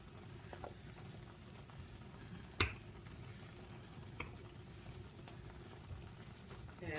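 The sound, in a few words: steak and pepper sauce simmering in a pan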